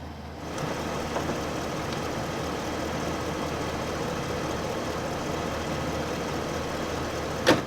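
A van engine idles steadily with a low, even rumble that holds at one level, then ends in a brief sharp knock.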